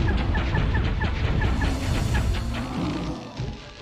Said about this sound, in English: Send help! I'm being menaced by birds.